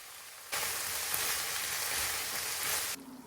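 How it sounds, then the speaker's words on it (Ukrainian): Chicken and mushrooms hit hot oil and sizzle loudly and evenly for a couple of seconds, then the frying noise cuts off abruptly. "На олії обсмажте курку і паралельно гриби по 6-7 хвилин."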